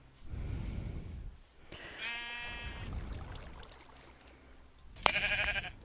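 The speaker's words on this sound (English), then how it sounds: "Awesome, look at these sheep." Sheep in Minecraft bleat, with two distinct wavering bleats, the second sharper and louder, rising over a busy low game background with no speech.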